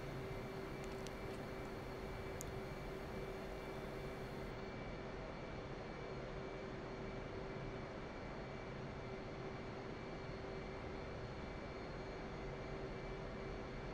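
Steady jet engine roar from a fighter aircraft in the DCS World flight simulator, a constant loud drone with a whining tone and a few faint clicks near the start.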